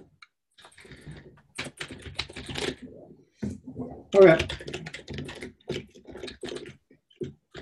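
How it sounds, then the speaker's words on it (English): Rapid clicky computer keyboard typing during an online meeting, a burst of clacking keystrokes under and between people talking, fairly close to the microphone. "When I type, can you hear it? Oh, yeah. It's pretty clickety-clackety."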